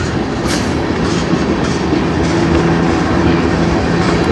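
Train rolling past on a gusty riverside stretch, loud steady rumble and clatter of wheels on track sustained throughout, close and unbroken.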